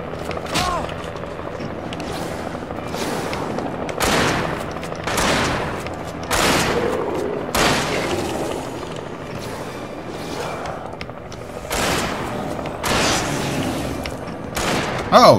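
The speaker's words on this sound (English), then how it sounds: "Oh, damn it, I shot him." Gunshots ring out in the horror action game Alan Wake: loud, irregular single shots and short volleys with booming impacts, scattered across about fifteen seconds over a steady game soundscape.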